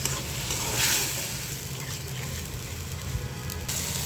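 Chili powder, cumin, coriander and ginger-garlic paste fry in hot oil in a pan, giving a steady, close sizzle that holds evenly throughout, with a brief louder flare near the start and no talking.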